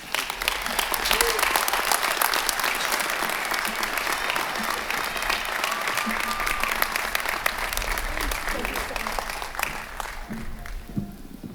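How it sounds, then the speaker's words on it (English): Commencement audience at the 2018 University of New Hampshire ceremony applauds Sean Gorman, a broad sustained clapping from a large crowd, steady and moderately loud, with faint cheers mixed in. "Please give him a round of applause"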